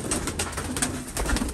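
Soft repeated cooing from a pair of pigeons, a female newly come down after six or seven days, low throaty calls recurring in a loose rhythm, close by and without talk.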